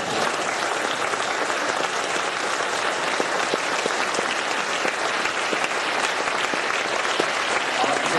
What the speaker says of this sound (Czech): Tleskejte nám, my to máme strašně rádi.